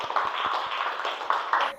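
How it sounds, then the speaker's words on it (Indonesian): A classroom claps briefly for a student named Ica during a physical education lesson: a short, close burst of several quick handclaps. "Tepuk tangan buat Ica."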